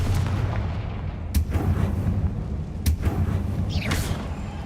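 Confringo fire-spell blasts in the video game Hogwarts Legacy: a few sharp booming impacts over a dense, loud rumbling game soundscape, with no clear voices.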